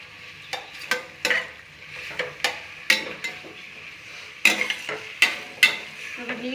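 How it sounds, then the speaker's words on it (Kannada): A spoon stirs chili powder into a tomato mixture in a pan, giving a series of sharp close scraping clacks against the metal over a low sizzle, repeating irregularly about a dozen times. "ಇದನ್ನು ಒಂದ್ಸರಿ ಕೈ ಆಡಿಸ್ತೀನಿ"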